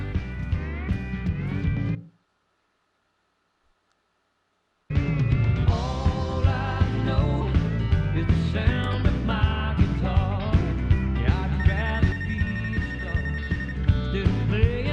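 Phone ringing in the video game Life is Strange: Wavelengths, a repeating electronic ring over a steady music bed, broken by about three seconds of silence.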